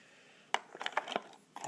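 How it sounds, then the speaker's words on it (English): A slip joint pocket knife is set down into a box of other knives, making a few light metallic clinks and taps, close and quiet. "This is going into the box of rotated slip joints."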